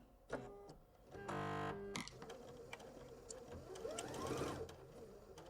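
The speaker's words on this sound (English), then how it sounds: "I have a guide right there, and I'm going to begin to sew." A sewing machine stitches quilt fabric strips along a quarter-inch seam guide, with short mechanical bursts, then a steady whirring run of stitching, then softer intermittent stitching and handling, all close and fairly quiet.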